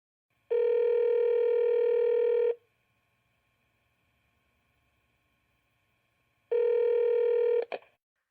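Telephone dialing tones: two loud, steady beeps of about two seconds each separated by silence, the second followed by a short burst of quick clicks or tones.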